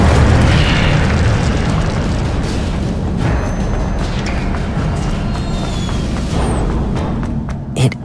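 A loud whooshing burst of fire from the Incendio spell in Hogwarts Legacy, roaring and rumbling broadly before tapering into a crackling tail.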